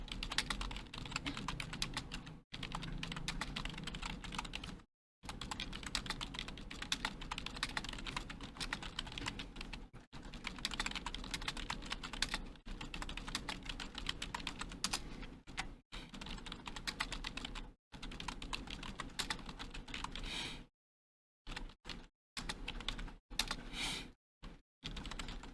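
Rapid, continuous clatter of computer keyboard keys being typed, with a few brief pauses, close and steady, no voices.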